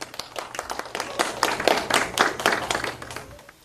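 Audience applause at a political address, a burst of clapping from a crowd lasting a few seconds with uneven, overlapping claps, moderately loud and fading near the end.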